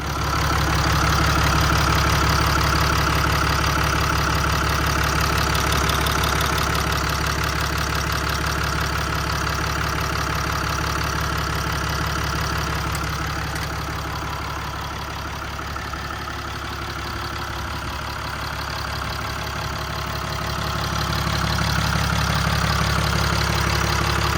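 A Cummins diesel engine in a 2016 Ram 5500 service truck idles steadily with a low, knocking rumble that dips slightly and swells back, close and continuous.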